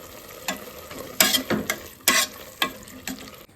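Yogurt and spices frying in oil in a pan for palav, stirred with a spoon, giving several distinct scraping stir strokes over a steady soft sizzle, close and moderately loud with no talking.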